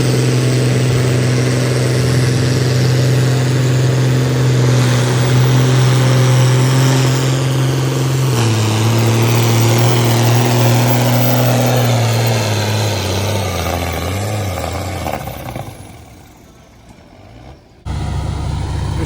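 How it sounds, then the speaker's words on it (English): A tractor engine idles with a steady, deep chugging drone, then winds down and fades out near the end. "Dad's over there, just started the tractor up."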